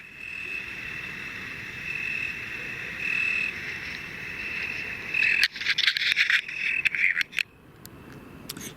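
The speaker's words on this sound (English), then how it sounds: "I feel I got more cricket sounds than I did EVP on that." Crickets chirp steadily at night in a Romanian forest, a continuous high trilling that stays loud and unbroken, then gives way to a cluster of sharp clicks and scraping knocks close by near the end.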